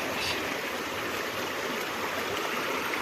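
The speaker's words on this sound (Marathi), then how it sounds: "पूर्ण शेत भरलेत ते बघा पूर्ण पाणी शेतामध्ये वगैरे पाणी आलं आहे ते बघा" Floodwater rushes across rice paddies flooded after heavy rain, a steady broadband wash of flowing water that stays fairly faint and even throughout, with no voices.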